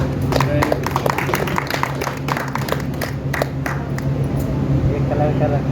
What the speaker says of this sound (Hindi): ताली बजाओ भाई।